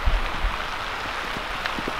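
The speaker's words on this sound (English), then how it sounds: "It's raining so hard that it just can't keep up." Heavy rain falls steadily on a garden at night, a dense even hiss with a few close drips and splashes.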